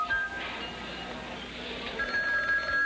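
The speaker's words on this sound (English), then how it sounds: "The telephone rang." A telephone bell rings in a cartoon pizza shop, with a bright electronic trill at the start and again near the end over a busy background.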